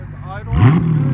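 A 2019 Dodge Charger with a 6.4L HEMI V8 and AWE Track cat-back exhaust idles on a cold day, giving a close, deep burbling rumble that swells briefly in a short throaty pulse.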